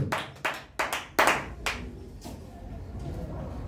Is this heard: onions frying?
no